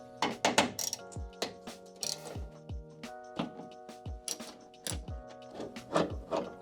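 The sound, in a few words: removing T30 screws from Mercedes W220 trunk latch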